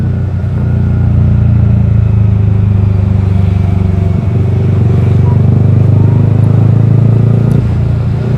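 A Yamaha R15 V3 fitted with a Daytona Evolution exhaust idles loud and close, a steady deep throbbing drone with a slight blip partway through, recorded on a camera mic.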